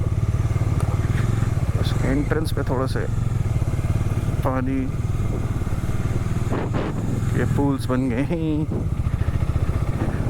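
At Throttle Fest a motorcycle engine runs in a steady low drone with a throttle rise partway through, while people talk over it nearby.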